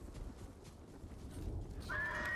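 A faint horse whinny in the video game Ghost of Tsushima rises at the end over low clattering hooves and background rumble.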